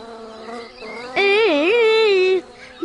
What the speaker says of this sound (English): Hey, Buzz, stop buzzing in my ears.